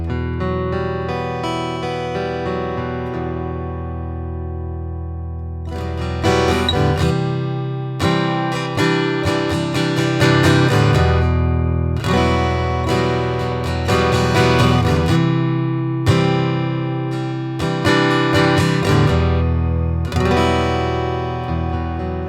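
Fender Acoustasonic acoustic guitar played on its own, starting with ringing sustained chords and moving into busier strummed and picked passages with strong, bright attacks.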